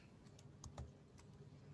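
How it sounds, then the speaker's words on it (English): Faint, sparse key clicks from someone typing on a computer keyboard during a Zoom online teaching webinar, a handful of light taps scattered across a quiet background. "I'm typing here on in Zoom."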